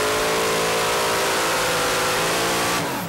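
A super modified tractor's alcohol-fuelled motor revs hard at a pulling event, a loud sustained roar with rising harmonics as the RPMs build, dropping off slightly at the very end.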